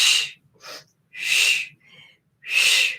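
Forceful exhales during a chest opener stretch, three loud hissing breaths in a steady rhythm with softer inhales between, close and alone.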